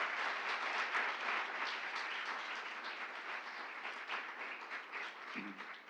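An audience at a graduate education award ceremony applauds its master's and doctoral graduates, a steady, even wash of clapping that sounds somewhat distant and holds for the full stretch.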